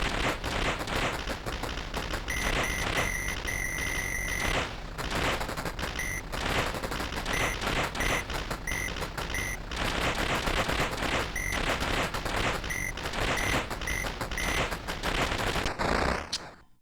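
Rapid arcade gunfire from the plane shooter game 1942, a dense continuous stream of shots with electronic beeping tones over loud game music, running steadily throughout.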